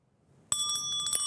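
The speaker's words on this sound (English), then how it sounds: "When the bell rings, you know what time it is." An electronic school bell rings out at the start of a class for a Form 5 English lesson, a bright, sustained ringing tone that begins abruptly after a near-silent lead-in and continues steadily to the end.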